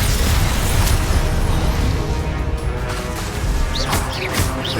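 A loud, roaring fire-spell blast from Confringo in Hogwarts Legacy, with a sustained crashing explosion that fills the whole stretch and flares again near the end.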